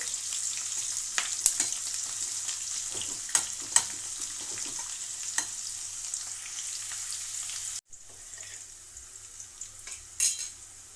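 Onion pieces for tomato rice frying in a pan, a steady broadband sizzle with occasional stirring scrapes and clinks, fairly close and continuous, briefly cutting out and resuming without any talk.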